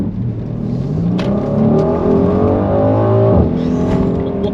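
A Mercedes-AMG GLC 63 S Coupé with its V8 gives a loud, steady exhaust drone, with a few sharp crackles and a short dip and burble near the end.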